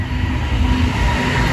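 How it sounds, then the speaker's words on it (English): A train rolls past at close range with a heavy steady rumble and grinding wheel noise that fills the whole stretch, no talk over it. "train going by."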